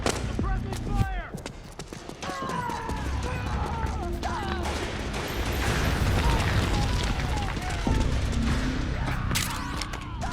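Heavy suppressing gunfire in Metal Gear Solid 4 battlefield combat, a dense, continuous clatter of shots and bursts under shouted voices and music for the whole stretch, loud and close.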